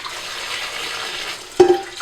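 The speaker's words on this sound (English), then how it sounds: "so I'm going to pour cold water into this." Cold water rushing and splashing over soba noodles for Japanese zarusoba, a steady gushing flow with two sharper splashy bursts near the end.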